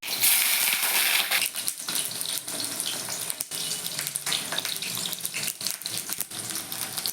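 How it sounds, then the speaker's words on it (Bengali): Steady, loud sizzling and spitting of eggplant pieces frying in hot mustard oil, a dense crackling hiss throughout with no voices. "প্রথমে আমি বেগুনটাকে একটু ভেজে নেব"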